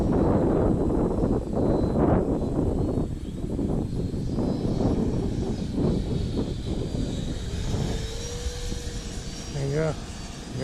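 A Freewing F-22 Raptor 90mm radio-controlled jet sweeps past with a steady whooshing turbine roar that slowly eases and fades, with voices talking over it.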